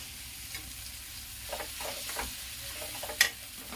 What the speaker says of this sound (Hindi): तेल छूटने तक भूनूंगी